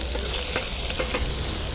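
Diced onions frying with turmeric in a pan for a fish curry, a steady broadband sizzle with a few soft stirring scrapes, close and continuous with no talk.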